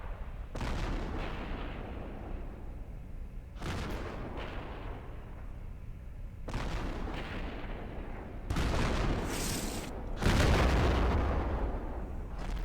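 M44 self-propelled artillery in a tank battle game firing heavy booming shots at intervals, each followed by a long rumbling decay, with a louder blast near the end.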